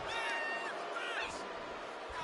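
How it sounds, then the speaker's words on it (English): Wrestling crowd in the WWE NXT video game cheering and whooping steadily, a dense roar of voices with high rising whoops throughout the short stretch. "The crowd is fired up."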